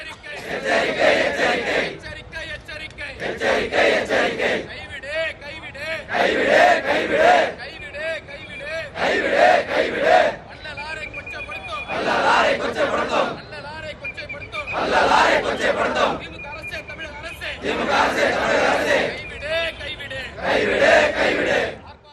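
Protesters from the PMK party demonstrate at Vadalur against a planned international centre, their crowd shouting in loud, rhythmic bursts of massed voices that rise and pause repeatedly, with chanting carrying over a steady hubbub throughout.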